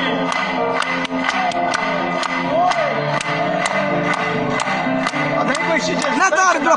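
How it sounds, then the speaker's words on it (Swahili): A church congregation claps together in a sustained, steady round of applause, loud and near, with crowd noise and a few thumps mixed in. "Hebu tupige makofi mara moja zaidi"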